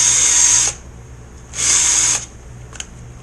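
A drill spins a tight-fitting rod while sandpaper works it, two whirring bursts of under a second each separated by a pause, close and clear in a quiet room, with a brief click afterward.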